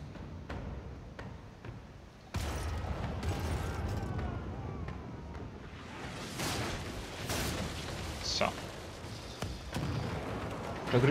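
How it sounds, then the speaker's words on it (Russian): A damaged sailing ship blows apart from gunpowder exploding in its hold during a naval battle in Pillars of Eternity II: Deadfire, with a sudden heavy boom followed by sustained rumbling and crackling blasts, several sharp bursts standing out later. "Прогревевший в трюме взрыв разрывает поврежденный корабль пополам."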